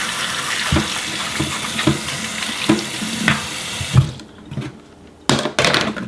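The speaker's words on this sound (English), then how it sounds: "I like to use hot water and just rinse this bad boy off." Hot water runs from a tap onto a paintball mask, a steady close splashing rinse with soft knocks from handling; it quiets briefly near the end, then gushes again.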